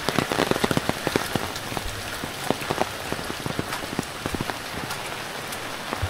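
Steady rain falls outdoors, a dense wash of patter with sharper drops striking close by throughout, with no voices.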